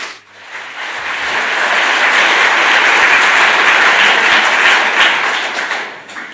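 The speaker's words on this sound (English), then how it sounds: "Please give an applause." A conference audience breaks into applause for a network review talk, a broad wash of many hands clapping that swells from a quick start, holds loud and steady, then tapers off near the end with no talking.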